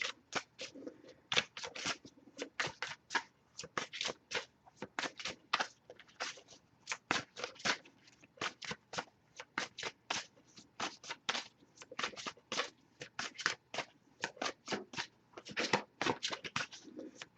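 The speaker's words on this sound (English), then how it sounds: "I'll give it a few more shuffles before I move on." Rapid, crisp riffling and flicking of tarot cards being shuffled repeats continuously in quick bursts, close and fairly quiet, with no voices.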